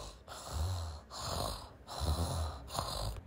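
Slow, steady snoring, three long rasping breaths with brief gaps between them, close by and soft, with no talking.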